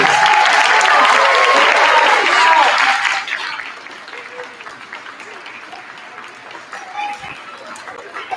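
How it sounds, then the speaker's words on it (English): Loud applause from an audience at a first and second grade school concert fills the first few seconds, then fades into scattered claps and crowd murmur. "one more round of applause for our wonderful second graders"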